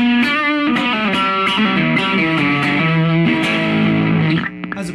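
Electric guitar played with heavy distortion through an amp, loud sustained chords and riffs filling the clip continuously before cutting off near the end.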